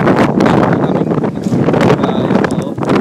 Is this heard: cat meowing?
no